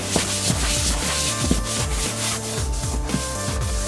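A black leather seat is scrubbed with a lathering leather cleaner, giving a steady, close rubbing swish with rhythmic strokes roughly every half second and no talking.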